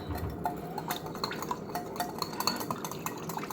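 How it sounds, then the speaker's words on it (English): Salad dressing ingredients for a beet arugula salad being whisked together in a bowl, a steady run of quick light clinks and scrapes of the whisk against the sides, close and continuous. "what we really want to do is just take all the ingredients, whisk them together"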